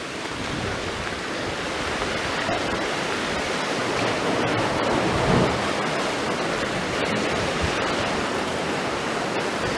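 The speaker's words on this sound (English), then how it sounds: "The water crashing in and through here." Ocean surf crashes in along the rocky shore near Louisbourg, a continuous loud roar of churning water with a slight swell midway and no voices.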